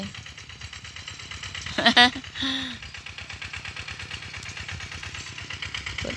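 A walk-behind tractor engine runs with a steady rapid thudding beat, close by and continuous, with brief voices and a shout cutting in near the middle.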